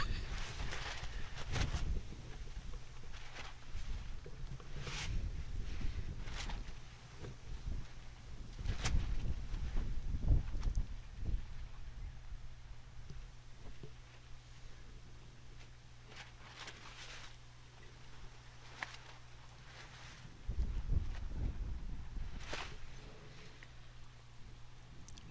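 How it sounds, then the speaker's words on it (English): Strong wind on an outdoor bowling green rumbles and buffets in low gusts, swelling and easing throughout with a heavier surge near the end. Faint rustles and clicks sit over it, with no voices. "It is a strong wind at the moment."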